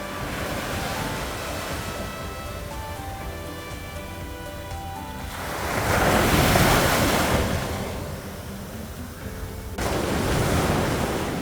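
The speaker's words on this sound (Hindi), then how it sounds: "समुद्र की तेज गर्जना से वो जगह गूंज रही थी" Loud, roaring ocean surf on a beach at Thiruvananthapuram, Kerala, a continuous broad wash of breaking waves that swells and recedes, with wind buffeting the microphone and no talking.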